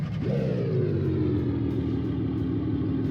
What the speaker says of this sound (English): the idle sounds, the idle noise is actually good